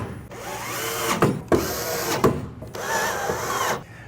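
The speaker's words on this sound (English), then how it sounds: "I'm going to put the trim into the side of the box using the included screws that come with the system" A power drill drives the included screws into the trim of a wall box, with bursts of whirring run over about four seconds, broken by short gaps and sharp clicks as each screw seats, close and fairly loud.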